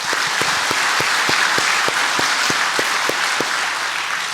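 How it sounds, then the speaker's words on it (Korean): A church congregation claps together, a fairly loud continuous wash with rhythmic unison claps at a steady beat running through it. "우리 하나님 앞에 영광의 박수 한번 하겠습니다"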